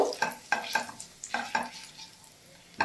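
Dried chili, bay leaves and cumin are stirred in hot oil in a pan for cabbage and egg, with a series of sharp spoon scrapes and clacks over a faint sizzle, fairly close.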